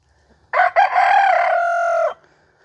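A nearby rooster gives one loud, sustained crow lasting about a second and a half, with faint background sounds before and after, in a garden where hens wait beside a tomato trellis.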